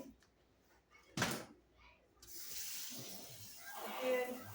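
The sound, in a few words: rinsing fruit under running tap water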